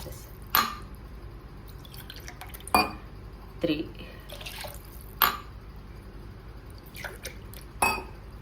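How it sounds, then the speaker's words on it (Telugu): Water is poured glass by glass into a pot of rice for tomato rice. Several short, quiet splashes and small clinks are spaced a second or two apart. "దీంతో 4 గ్లాసెస్ వాటర్ పోస్తానండి."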